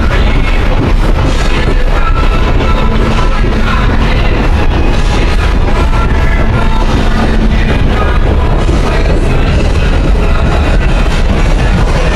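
Texas State Railroad train rolling slowly through forest at about 15 miles an hour, a steady loud rumble and rattle of the cars with faint clanks throughout, no voices.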